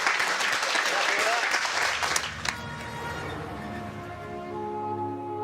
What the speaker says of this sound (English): I think a big round of applause for the shunting guys.